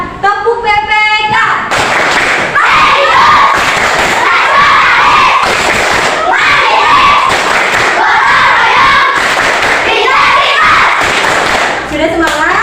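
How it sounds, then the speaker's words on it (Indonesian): A classroom of children claps out a rhythmic chant in unison, with loud patterned clapping bursts, shouting voices and thumps filling the room in a busy, energetic stretch. "mari sama-sama tepuk PPK"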